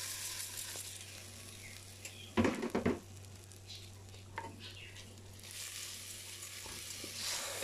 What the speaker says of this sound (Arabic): نبداو نقليو فيه مزيان مزيان